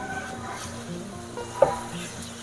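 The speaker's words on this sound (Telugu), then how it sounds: "చూడండి ఫ్రై అవుతుంది." Green chicken sizzles steadily in a pan while it is stirred, with a soft utensil clink partway through. The frying hiss stays even and close, and no one speaks.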